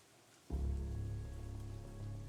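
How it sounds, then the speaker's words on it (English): Rain in the video game Under Heaven starts abruptly half a second in, then hisses and patters steadily on a surface over a low rumble, fairly quiet and with no talk. "The rain beats down on me."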